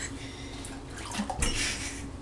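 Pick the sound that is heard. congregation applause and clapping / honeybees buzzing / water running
water running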